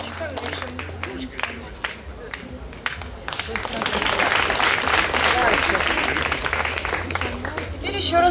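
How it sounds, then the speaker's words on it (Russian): Audience applause at a jazz quartet concert in Koktebel, starting as scattered claps and swelling into dense, sustained clapping from a large crowd, with some voices underneath. "Аплодируют зрители."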